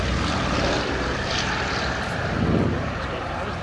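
A B-17 Flying Fortress, Sally B, makes an airshow pass at Dunsfold with a loud, continuous propeller-engine drone, while an announcer's voice is partly heard over the roar.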